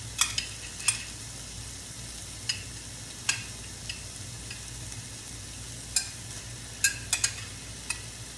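Shrimp sizzle steadily in a frying pan for shrimp fried rice, with sharp scrapes and taps from a spatula striking the pan every second or so, close and alone.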